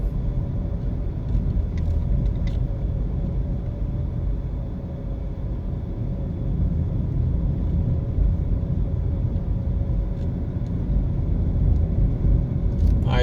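Steady car engine and road rumble while driving through the Meadowbrook neighbourhood of Kingston, Jamaica, heard from inside the vehicle, a constant low drone with faint ticks and no talking.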